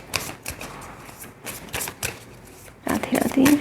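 Tarot cards are shuffled by hand in quick, papery bursts of riffling and slapping, close and fairly loud, growing denser near the end.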